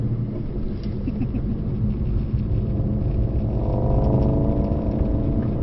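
A Mercedes-AMG GT63 Pro engine drones at speed on a track, a dense, steady low rumble with a rising tone toward the end, heard from inside the car.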